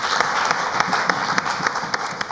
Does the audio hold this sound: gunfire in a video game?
no